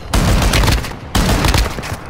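A new shotgun firing in the game DMZ, two loud close blasts about a second apart, each with a rumbling tail.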